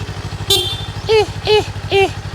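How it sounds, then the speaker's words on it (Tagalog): A Kawasaki Eliminator motorcycle horn gives three short, high, shrill honks in a steady rhythm, following a brief tone, over a low idling engine rumble. "Our busina"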